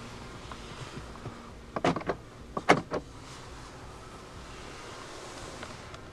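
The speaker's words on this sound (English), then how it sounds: "central locking," Central locking on a 2016 Mercedes-Benz A 180 Sport actuates with two short mechanical clunks close together, standing out briefly against a quiet cabin.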